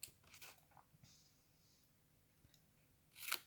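Scissors cut paper for a double-lidded Advent calendar box, giving a few quiet, crisp snips spread across the moment, with the sharpest cut near the end against a near-silent room.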